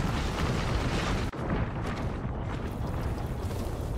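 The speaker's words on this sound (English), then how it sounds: "We got EMP'd, bro." An EMP blast in the video game Apex Legends gives a dense, roaring burst of noise with a sharp cut and drop partway through, then continued loud rumbling game sound, with no talking.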